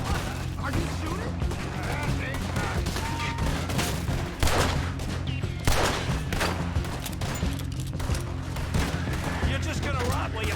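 Rapid gunfire fills a Red Dead Redemption 2 shootout, with dense overlapping shots and bursts continuing throughout, loud and close, while a voice talks over the fighting.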